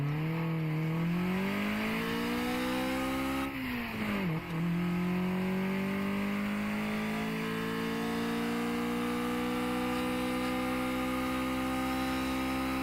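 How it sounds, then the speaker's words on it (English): A car engine in the racing video game Redline Reverie revs on a dyno run, a loud, steady drone climbing in pitch, dipping briefly, then rising and holding high. "Let's do a dyno run."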